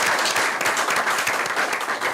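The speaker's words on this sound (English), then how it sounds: "Please a round of applause for him." Dense, loud clapping from an audience at an academic conference as a faculty member is introduced, continuous for the whole short stretch.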